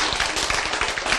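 A church congregation applauds in a dense, loud, continuous patter of many hands, steady throughout with faint rhythmic thumps underneath and no voices on top.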